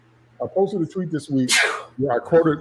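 A single loud, sharp sneeze bursts out between stretches of a man's speech, close to the microphone.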